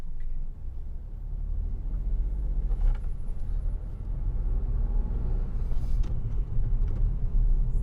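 A car driving straight ahead on a road at about 40 mph during a driving assessment, with a steady close engine and road rumble throughout and no talk.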